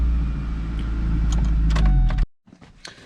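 A Ford Ranger pickup engine, just repaired after a fuel pump fix, runs loud and steady with a deep idle rumble close by, then cuts off abruptly, leaving faint clicks and rattles.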